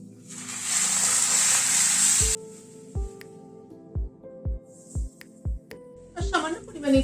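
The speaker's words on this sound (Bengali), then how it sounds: "এবার গরম জল দিয়ে দিচ্ছি।" Hot water hits a pan of frying cauliflower, throwing up a loud, broad hiss for about two seconds. Then the sizzle cuts out, and a series of short, rhythmic thuds follows.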